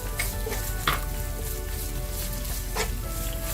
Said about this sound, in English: saute it for a few seconds